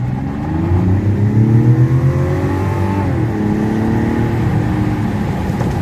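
The inline-six turbo engine of a 2026 Mazda CX-70 accelerates, a loud, steady drone that climbs in pitch through the gears, with a brief dip as it shifts, heard from inside the car without talk.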